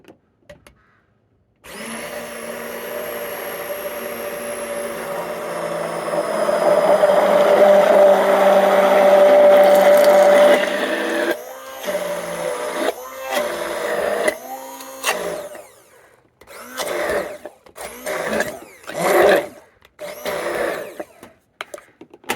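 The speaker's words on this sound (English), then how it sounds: "now we're going to pop our immersion blender in there and have a blast" Immersion blender whirring in a container while emulsifying mayonnaise: a loud, steady motor drone that strains and rises for about nine seconds, then breaks into shorter pulsed bursts separated by gaps.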